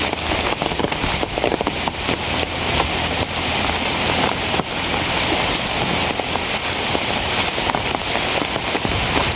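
Heavy, steady rain pours down during a fishing trip, a dense continuous hiss of drops on surfaces that stays loud and unbroken throughout, with no voices.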